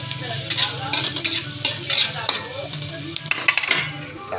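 Onion and garlic sauté in reused frying oil, a loud crackling sizzle with repeated scraping and clinking of a spatula against the pan, close by with no one talking.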